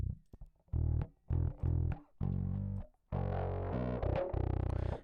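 A bass guitar plays through a distortion box from a DI line, first as short choppy notes and then as sustained, gritty, buzzing tones that are close and loud.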